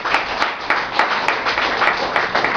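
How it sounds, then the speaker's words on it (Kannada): Audience applause at a gathering honouring Yalakki Puttaraju, steady close clapping with rhythmic sharp peaks, continuous and fairly loud throughout with no voices. "ಒಂದು ದೊಡ್ಡ ಚಪ್ಪಾಳೆ ಹೊಡಿಬೇಕು"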